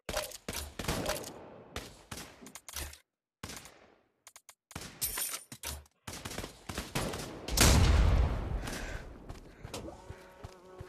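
Gunfire in a World War 2 video game cracks in loud, close bursts and single shots, broken by short gaps of silence, with one heavier, rumbling volley near the end.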